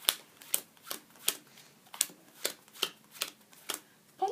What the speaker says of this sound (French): retournez-vous et prenez le jeu en main pour en retirer les 10 cartes supérieures une à une